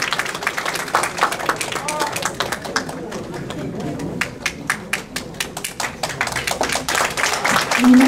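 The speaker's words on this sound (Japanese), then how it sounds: "みんなから温かい拍手をありがとうございます。" Audience clapping welcomes a soloist before a Peruvian folklore piece by a music club, scattered sharp claps building into applause, with a speaker talking over parts of it.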